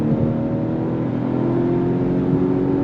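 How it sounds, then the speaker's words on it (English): A 2024 Volvo V60 Cross Country wagon accelerates on throttle as its 8-speed automatic downshifts, a loud steady engine drone and road noise from inside the cabin. "8-speed drops down and we are off."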